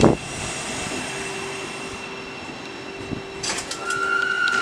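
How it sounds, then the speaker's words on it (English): A Thameslink train from Brighton to Bedford runs through Harlington station with a steady rolling rumble, a faint sustained whine, and brief higher squeals and clanks near the end. "Thameslink service heading from Brighton to Bedford"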